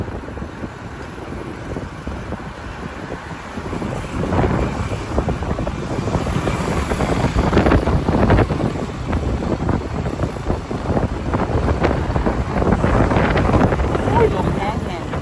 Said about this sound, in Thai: ลมตีใส่ตลอด